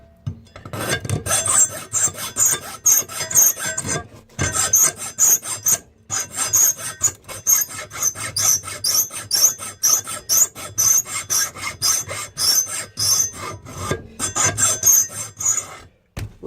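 A hand file scrapes a steel knife blade to remove chain drilling marks, a close, loud rasp repeating in steady strokes with a few brief pauses.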